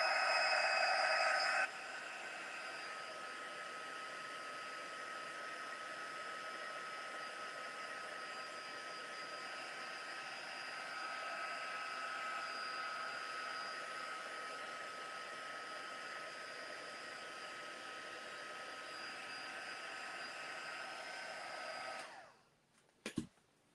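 A hot-air dryer blows steadily on a scrapbooking craft project for a final drying pass, giving a faint, even whir that runs for over twenty seconds before cutting off with a small click.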